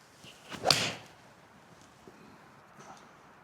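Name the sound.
golf iron striking ball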